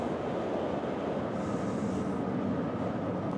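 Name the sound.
commuter rail train pulling out of Union Station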